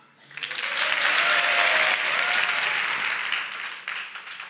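A live audience rehearsing applause, clapping swelling up quickly to a loud, dense roar, holding steady, then thinning into scattered claps near the end.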